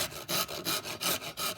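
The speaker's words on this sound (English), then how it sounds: "I will go ahead and just use a file and file that down" Hand file rasping along the edge of a wooden 4x4 in a raised garden bed build, a steady run of about eight back-and-forth strokes, close and moderately loud with no talk.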